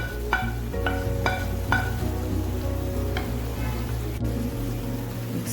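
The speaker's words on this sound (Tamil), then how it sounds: "அந்த வதக்கின அந்த வெண்டைக்காய் போட்டுக்கலாங்க" Sautéed ladies finger (okra) tipped into a boiling masala gravy for bhindi masala, giving a steady close frying sizzle and bubbling with some stirring clatter throughout, no talking.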